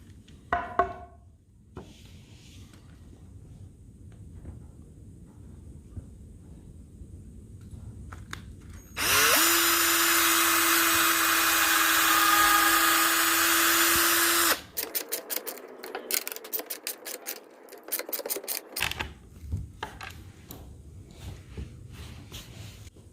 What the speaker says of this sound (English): we've got to pre-drill down here for the 3-inch lag bolts that are going here